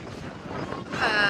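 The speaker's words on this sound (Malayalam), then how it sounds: "ഇവിടെ കാറ്റ് ഭയങ്കര കാറ്റാണ് ഗൈസ്." Strong wind gusting across the open hilltop viewpoint of Jabal Shat near Salalah, Oman, roaring steadily into the microphone as a broad rushing buffet that swells louder toward the end.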